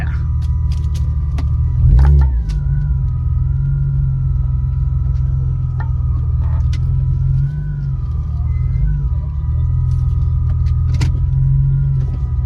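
Ford F-150 pickup engine rumbling and pulling under acceleration, a steady loud low drone with a faint whine riding above and a couple of brief surges.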